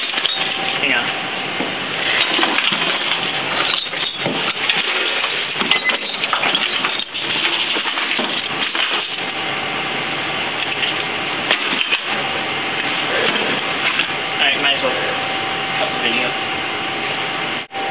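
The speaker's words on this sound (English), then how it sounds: "Today we're going to smash another old TV." An old television set being smashed, a loud, continuous roar of crushing, cracking and splintering impacts lasting many seconds, harsh and close, with voices barely present underneath.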